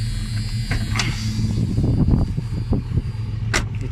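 A 1979 Ford Mustang Ghia, a Belgian-built model, idles with its engine running nearby: a steady, smooth low hum with a few light mechanical clicks and taps on top.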